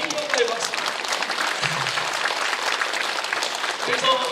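Church congregation applauding during a Korean evening prayer service, sustained crowd clapping at an even level throughout, with some voices underneath.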